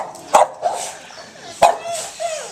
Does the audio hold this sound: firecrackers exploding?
no